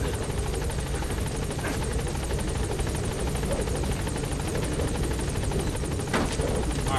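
A helicopter in the video game Metal Gear Solid V drones steadily, its rotor producing a rapid rhythmic chopping over a low engine hum, continuous and moderately loud throughout, with no voices.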